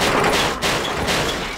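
Dense gunfire in Resident Evil 6, a loud continuous fusillade of overlapping shots with a brief gap, no speech.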